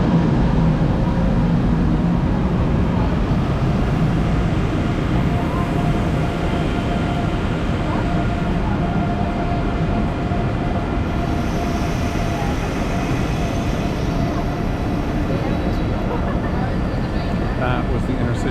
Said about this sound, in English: That was the Intercity Express, and that is not my train.